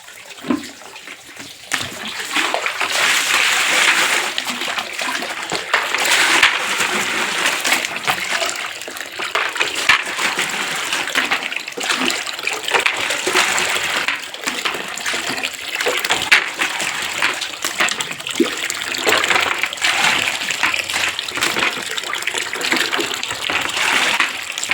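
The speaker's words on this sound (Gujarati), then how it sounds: "જો આ પાણી આવ્યું છે નળ, અત્યારમાં તો હું પાણી ભરી લઉં।" Water from a household tap gushes into a container in a steady, close, uninterrupted stream that starts after a brief pause and runs for over twenty seconds.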